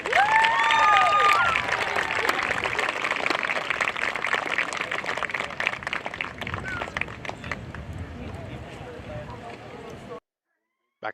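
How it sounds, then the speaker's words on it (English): Crowd applause and cheering at a high school girls soccer senior night in Kentucky, loud and sustained with a PA voice and tonal sounds over it early on, fading before cutting to near silence at the end. "How about another big round of applause for all of our seniors?"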